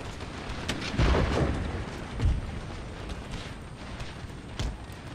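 Three dull, distant booms of artillery fire in Empire: Total War thud at uneven intervals over a constant rumbling background.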